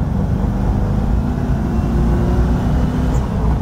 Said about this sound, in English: Second gear, going fast.